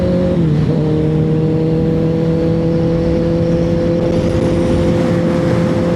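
Motorcycle engine held at a steady drone after a brief dip in pitch near the start, suggesting a quick clutch-in upshift, then a sustained even note to the end, loud and close with no talking.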